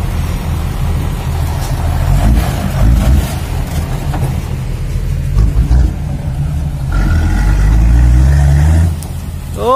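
Loaded sand truck driving with a steady, loud low engine rumble throughout, rising toward the end as it seems to accelerate, with no talk over it.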